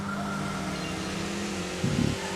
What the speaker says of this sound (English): No one wants to hear the sound of my engine.